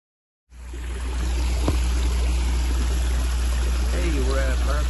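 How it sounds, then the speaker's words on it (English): Hot spring water flows out of a hillside at Hot Springs, Arkansas, a steady close rushing and trickling that starts abruptly and continues throughout, with faint voices appearing near the end. "there's hot water coming out of the side of the hill"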